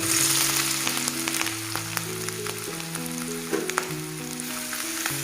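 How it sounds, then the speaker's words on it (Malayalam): Fenugreek seeds with crushed ginger and garlic sizzle steadily in hot oil for a Kerala-style fish curry, a dense continuous crackle with occasional brief pops and no voices. "ഇത് ഏകദേശം ഒന്ന് പച്ചമണം മാർമണം വരെ ഒന്ന് ഇളക്കി കൊടുക്കുക"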